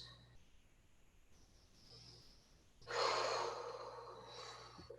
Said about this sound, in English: Big breaths. In and out.